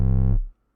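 A deep, distorted kick drum layered under a hammer impact for extra bass, booming loud for about a third of a second before cutting off abruptly, with no other sounds.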